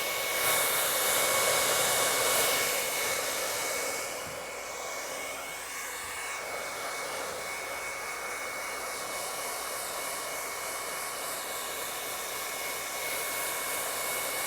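A blower runs continuously to dry wet paint on a canvas, a loud steady whooshing roar with a faint tonal whine that eases slightly in level after the first few seconds.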